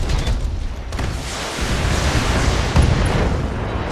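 Mech weapons fire and explosions roar in the BattleTech video game, a loud dense rumble of booms and blasts rolling continuously with a few sharper impacts.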